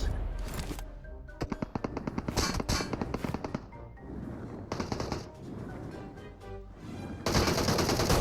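Gunfire in PUBG Mobile crackles in rapid bursts, sharp repeated shots coming in clusters with short pauses and a dense volley near the end.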